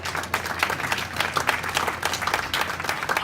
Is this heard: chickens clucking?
no